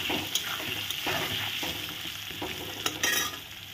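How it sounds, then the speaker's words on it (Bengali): Pieces fry in a pan with salt and turmeric, a steady close sizzle broken by rhythmic spatula scrapes and occasional clinks against the pan, with no speech. "লবণ হলুদ দিয়ে এখন ভালো করে ভেজে নিচ্ছি।"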